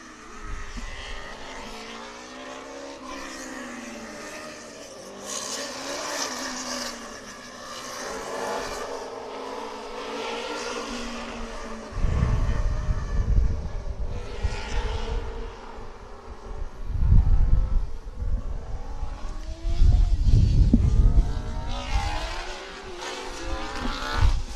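Classic cars race in an endurance event, engines roaring past one after another with rising, sweeping pitch, loud passes swelling and fading over a continuous din of other cars circling the track.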